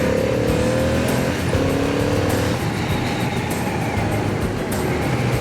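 A Ducati motorcycle rides a fast mountain road over the Col de l'Iseran in France, its engine note climbing and shifting through gears under a steady rush of wind.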